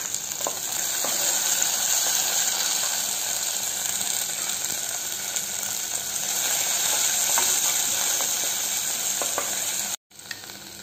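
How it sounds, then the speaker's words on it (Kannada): Tomato added to fried onions sizzles steadily in a hot pan while cooking a challe kai dish, a continuous bright hiss with occasional stirring clicks, ending in a brief cut near the close. "ಈಗ ಈರುಳ್ಳಿ ಫ್ರೈ ಆಗಿದೆ, ಇದಕ್ಕೆ ಟೊಮೆಟೊ ಹಾಕು."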